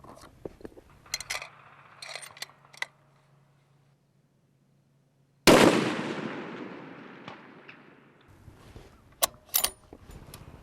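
A rifle fires once at 600 yards, a sharp loud crack that rings down into a decaying tail, with scattered clicks and handling noises before and after.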